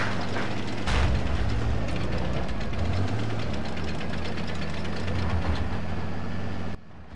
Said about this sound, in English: So when you hit the road, it makes the same sound effect noise as when your engine's broken.